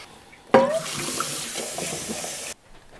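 A tap runs fresh water for watercolor painting, starting abruptly and pouring as a steady, close rush for about two seconds before shutting off sharply. The room is quiet apart from the flow.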